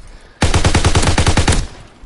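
Rapid automatic gunfire in Call of Duty WWII, a loud close burst of about a dozen evenly spaced shots lasting just over a second, followed by fading echo.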